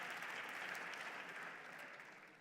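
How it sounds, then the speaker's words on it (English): Continuous applause from a gala audience at an anniversary event, dense and even, very faint in level and easing off slightly toward the end. "Yeah, you can start clapping because there's more coming."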